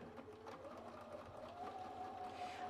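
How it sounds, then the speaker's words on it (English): A serger sewing machine runs in a steady whirring drone as it stitches fabric pieces for a shirt, the motor pitch rising slightly partway through, close and fairly quiet, with no talking. "the reason that I'm just stitching this first little distance on the pocket"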